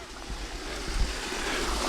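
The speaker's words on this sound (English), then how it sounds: "There's some serious water coming out of that." A powerful mountain spring in Shenandoah National Park gushing out of an old stone structure, a steady close rushing roar of water with no talking.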